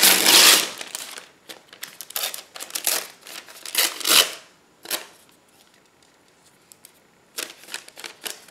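Paper is torn by hand for a mixed-media journal cover, with quick ripping bursts, loud and close at first, then sparser shorter rips separated by quiet pauses.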